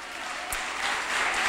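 A church congregation claps in praise of God, the applause building steadily and growing louder and fuller over a short stretch.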